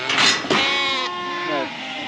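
Sheep with full fleeces bleat in a pen, two or three loud, wavering calls close by in quick succession.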